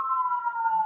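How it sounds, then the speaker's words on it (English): Emergency vehicle siren passing outside, a single steady wailing tone that slowly falls in pitch, brief and moderately loud. "Wait for the sirens."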